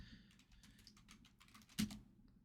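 Quiet keystrokes on a computer keyboard during a command-line session, a steady patter of taps ending in one harder key strike, near and soft, with no speech.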